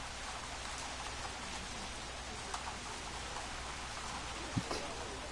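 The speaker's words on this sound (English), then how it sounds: "Now it's raining again." Rain falls outdoors in a steady hiss of drops striking surfaces, continuous and fairly quiet. A couple of brief louder taps or knocks stand out near the end.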